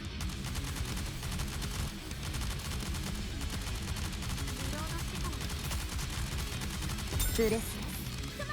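Game gunfire in Goddess of Victory: NIKKE rattles in rapid, continuous bursts, with dense shots running the whole way through and a louder flurry near the end.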